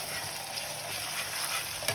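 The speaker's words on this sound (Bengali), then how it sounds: "পেঁয়াজ ভাজা চলছে এদিকে," Onions frying in hot oil in a home kitchen while biryani is being cooked: a steady, bright sizzle with faint stirring, continuous and fairly quiet, with no talking.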